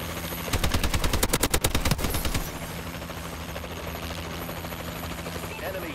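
In Call of Duty: Advanced Warfare, a Warbird aircraft decloaks and fires a loud rapid burst of heavy gunfire for about two seconds, followed by a lingering low engine drone.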